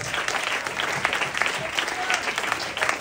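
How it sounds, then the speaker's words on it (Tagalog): A church congregation at a UPC-Muntinlupa service claps steadily and enthusiastically, a continuous wash of applause at moderate level with faint voices mixed in. "Malakas na palakpak para kay Jesus."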